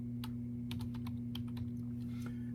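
Typing on a computer keyboard while working in an Excel spreadsheet: a quick burst of soft, close key clicks over a constant low electrical hum, with no talking.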